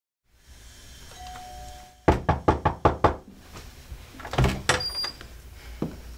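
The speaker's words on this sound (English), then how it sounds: "When he comes and knocks on my door," Six sharp knocks on a door in quick, even succession, loud and close, preceded by a faint electronic tone and followed by a door being opened and rattled.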